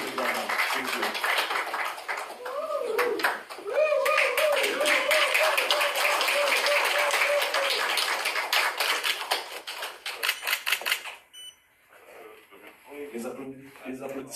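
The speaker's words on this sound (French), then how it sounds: "Les applaudissements timides." Scattered, light applause at a handover ceremony at the prime minister's office, as a new prime minister takes up her post. The clapping patters along beneath a loud voice that talks over most of it, then thins and drops away near the end.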